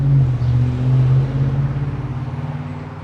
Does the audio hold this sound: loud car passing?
yes